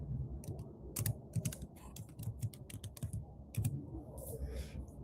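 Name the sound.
typing a name on a computer keyboard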